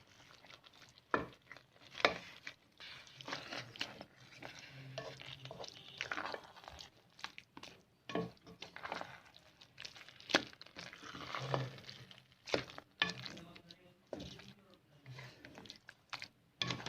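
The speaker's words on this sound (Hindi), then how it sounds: "अच्छे से इसे मिक्स करेंगे और उसके बाद हम चूल्हे को बंद कर देंगे।" A spoon stirring chicken sarson ka saag with chopped green coriander in a pot, soft scraping and thick wet squelching strokes in an irregular rhythm, close and faint, with someone talking throughout.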